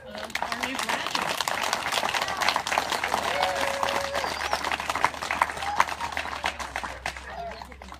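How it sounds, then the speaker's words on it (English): Steady crowd applause and clapping at a handler course graduation ceremony fills the whole stretch, with scattered voices and cheers mixed in. "how about a big round of applause for our new graduate?"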